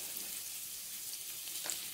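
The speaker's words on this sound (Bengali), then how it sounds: "আলুগুলো ভালো করে লাল করে ভেজে নেবো।" Potatoes fry until reddish in a pan for a drumstick-and-potato posto dish, giving a steady close hiss of sizzling oil that runs briefly without interruption.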